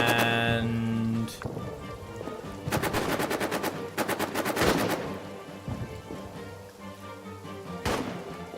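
Machine gun fire from the trench warfare video game All Quiet in the Trenches: several rapid bursts of rattling shots, loud and close, separated by short pauses over a rainy, rumbling battlefield ambience.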